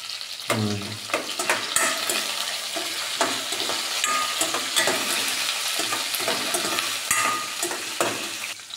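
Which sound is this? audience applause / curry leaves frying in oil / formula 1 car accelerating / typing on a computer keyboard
curry leaves frying in oil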